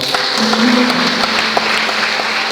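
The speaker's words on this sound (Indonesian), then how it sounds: "Bisa tepuk tangan bagi Tuhan kita." A congregation at a Pentecostal Sunday service in Pontianak applauds in a short, even burst, with a sustained tone and faint voices underneath the clapping.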